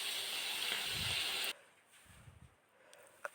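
Water poured into a pan of lightly fried bata fish in mustard paste sets off a loud, dense steady hiss for about a second and a half, which then cuts out abruptly, leaving faint quieter bubbling.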